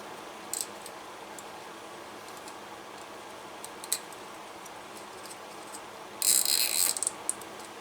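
Zip tie tightened by hand while assembling a laser engraver, a short dense ratcheting zip near the end after a few scattered clicks and handling noises, close up with no speech.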